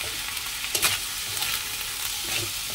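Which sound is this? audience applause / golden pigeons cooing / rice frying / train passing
rice frying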